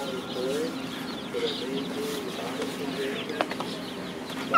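Ducks and baby turkeys make soft, close clucking and cooing calls that repeat throughout at a modest level, with faint voices in the background.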